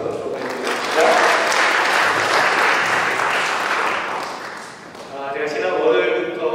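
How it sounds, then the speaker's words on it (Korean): Church congregation applauding the worship team, a broad, sustained wash of clapping across the room that swells early, dips briefly near the end, then rises again, with some voices mixed in. "여러분 찬양팀 위해서 한번 박수 보내드리겠습니다."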